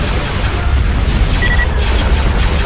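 A Star Destroyer unleashes heavy fire in Star Wars: Empire at War, a loud, dense, continuous booming rumble with a brief high tone cutting through midway.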